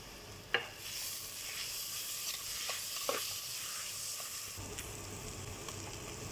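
Crushed green chili, ginger and garlic frying in a pan before mutton is added, a steady close sizzle with a few sharp clinks of a spoon stirring, no talking.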